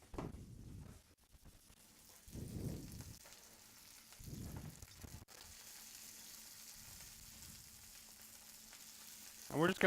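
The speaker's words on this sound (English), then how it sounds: "It's going to start to sizzle and pop." Asparagus sizzles and pops in a hot pan, a soft continuous hiss broken by several swelling bursts of frying and a sharper crackle at the very end, close by and fairly quiet.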